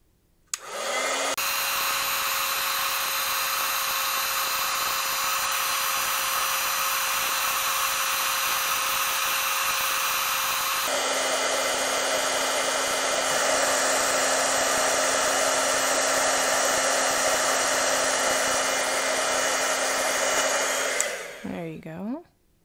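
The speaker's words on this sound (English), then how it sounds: "I'm going to take my heat tool and set that real quick" A heat tool blows hot air over white embossing powder with a loud, constant whirring hiss. It runs for about twenty seconds, and its pitch steps down partway through before it switches off.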